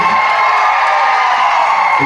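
A large crowd at a song launch event in Banaras cheers and claps in a dense, steady roar that fills the whole moment.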